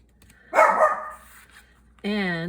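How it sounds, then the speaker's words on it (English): A dog gives a single bark-like burst, followed by a short sustained whine or yelp with clear harmonic tone, close by in a quiet room. "Jackson, that's my other dog."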